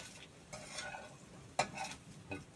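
Chinese sausage frying in a pan with water over medium-to-low heat, giving a faint sizzle broken by a few scraping stirs and light clinks of a utensil against the pan.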